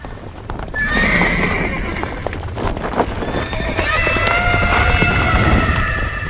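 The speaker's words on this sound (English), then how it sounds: "You're spooking my horse." A horse named Kahlua, frightened and bolting, gallops with rapid clip-clop hoofbeats and lets out loud, shrill neighs and whinnies, close and intense under a tense dramatic score.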